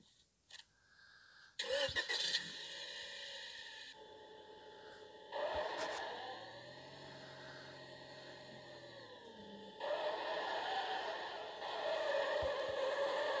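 Car engine in GTA IV, heard as a mid-pitched engine starting and revving with shifting tone across several bursts, steady and fairly close, with no talking.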